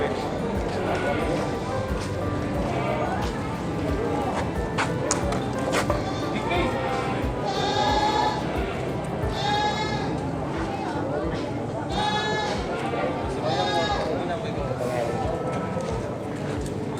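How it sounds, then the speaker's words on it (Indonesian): Month-old goat kids bleat in short, high cries at an Indonesian goat market, recurring through a busy, crowded scene with hoof clatter and people talking throughout. "Ini cempenya umur 1 bulanan ya."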